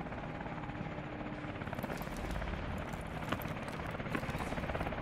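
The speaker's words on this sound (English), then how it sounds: "Push for the chopper!" A helicopter in the video game Call of Duty: Advanced Warfare drones with a steady rotor thrum, joined by sharp gunfire-like cracks and combat noise, fairly loud throughout.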